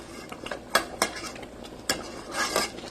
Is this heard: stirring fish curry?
yes